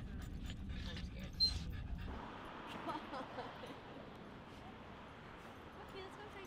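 Dogs panting and whimpering inside a car, a close burst of breathy panting dominating the first two seconds before settling into a steady low rumble, with people talking over it.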